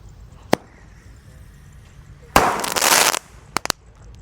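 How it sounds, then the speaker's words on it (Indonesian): A Golden Blitz firecracker gives a sharp single pop, then a loud fizzing, crackling burst that lasts under a second. A few quick snapping cracks follow close by outdoors. "Lanjut di sini ada mercon Golden Blitz yang akan kita nyalakan."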